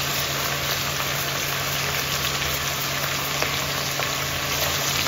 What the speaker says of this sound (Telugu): ఇవి మాత్రం బాగా వేగాలండి నూనెలో.